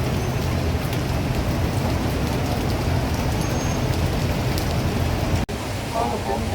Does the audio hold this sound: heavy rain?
yes